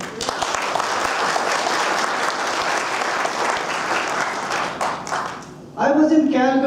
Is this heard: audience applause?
yes